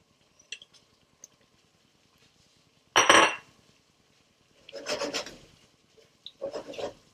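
King prawns are tipped into a pan of garlic naga phall curry in a restaurant-style kitchen, giving three separate bursts of scraping and clattering against the pan with quiet gaps between them.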